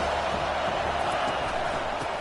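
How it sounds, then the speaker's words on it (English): Ohio State football stadium crowd roaring steadily behind the defense on a third down, a dense sustained wash of noise with faint commentary underneath. "Big third down as the crowd gets behind this defense."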